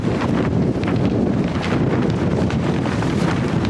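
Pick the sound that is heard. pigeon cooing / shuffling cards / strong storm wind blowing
strong storm wind blowing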